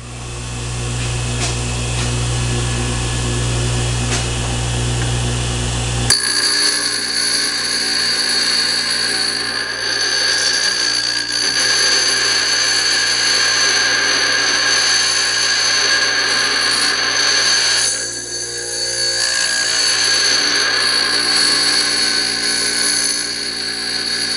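A kunai blade edge is held against a grinding wheel and moved back and forth, producing a loud continuous whine of the motor with abrasive hissing, steady and close throughout.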